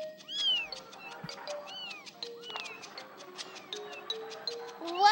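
A cat meows repeatedly in the video game Amanda the Adventurer 2, a string of rising and falling cries over soft ticking background sounds, with no talk.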